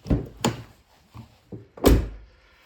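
A Chevrolet Cobalt or Pontiac G5 car door is worked with its newly replaced outside handle: a series of five close thunks and latch clicks, quick and uneven, ending in the loudest slam.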